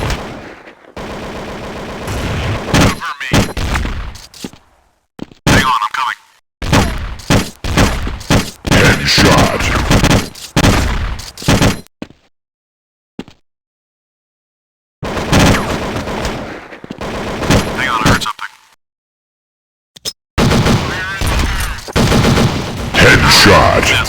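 Bursts of Counter-Strike video game gunfire, rapid automatic volleys and single shots in loud clusters broken by short silences, with a few brief in-game voice callouts among the shooting.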